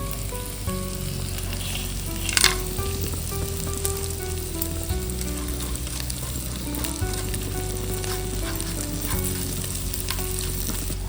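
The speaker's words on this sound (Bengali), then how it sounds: "এই গরম মশলাগুলো ভাজা হয়ে গেল" Whole garam masala spices, including green and black cardamom, cinnamon, cloves and mace, fry in hot oil in a pan for veg pulao, giving a continuous close sizzle with a few sharp crackles and occasional stirring scrapes.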